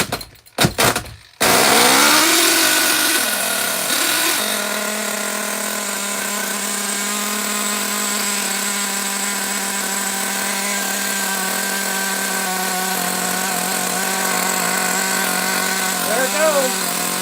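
Losi XXX-NT nitro RC truck engine starting with a few sputters, then holding a loud, steady high-pitched buzzing whine under throttle, rising briefly near the end.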